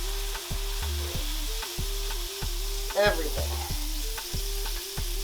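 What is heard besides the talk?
Wagyu ribeye steak searing in pan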